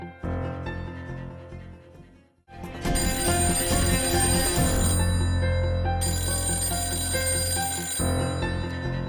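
A telephone rings on and off with no one answering, bright repeated trilling bursts that stop briefly and resume, with a low musical drone underneath and no voices.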